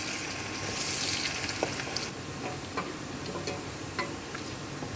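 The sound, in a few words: chopped onion frying in pan while stirred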